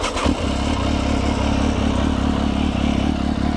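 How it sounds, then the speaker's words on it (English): A 2003 Benelli Tornado Tre 900 Limited Edition motorcycle's warm engine cranks and catches with a clattery start, then settles into a loud, steady, close rumbling idle. "let me fire this thing up so you can hear it."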